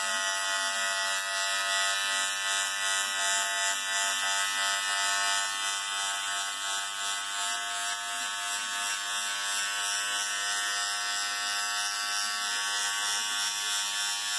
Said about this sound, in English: with these smaller clippers here, the smaller beard trimmers, it's kind of more of a flicking motion here.